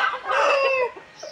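A rooster gives a short, loud, drawn-out call up close, ending with a brief cluck.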